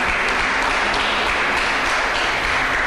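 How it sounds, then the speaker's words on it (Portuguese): Church congregation applauding as a continuous, even roar of many hands, moderately loud and sustained with no spoken voice over it. "Aplauda o Senhor Jesus aí, em nome de Jesus."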